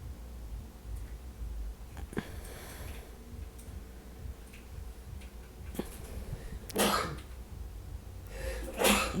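A husband sneezes in the room, short bursts standing out near the end over a low, steady room hum.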